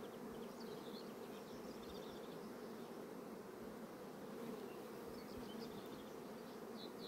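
Honey bees buzz steadily around opened hive frames, a dense, continuous drone close by with no one talking.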